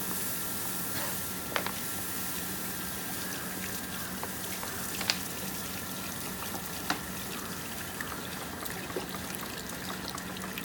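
Water is poured steadily into a pot of gram flour curry for Sindhi kari, a continuous soft trickling stream with a few light clinks, alone and fairly faint.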